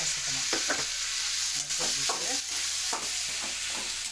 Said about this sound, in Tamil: போட்டு வசக்கணும்.